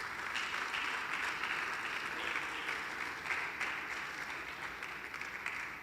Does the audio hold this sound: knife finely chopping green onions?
no